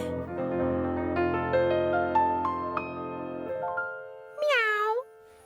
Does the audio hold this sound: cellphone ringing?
no